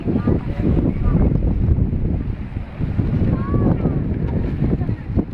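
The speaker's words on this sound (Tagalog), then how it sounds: "Malamig ang simoy ng hangin." Strong wind by a river buffets the microphone in a steady rumbling roar outdoors, with a voice faintly audible beneath it.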